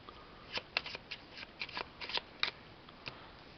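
Cards from the Dungeon Flee board game deck are shuffled by hand, giving a quiet series of irregular crisp riffling flicks and slaps close by, with no talking.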